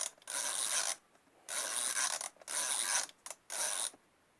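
The ratchet of a handle on a Vevor 100 mm vise, turned in four bursts of rapid ratcheting clicks, close and crisp, separated by short pauses.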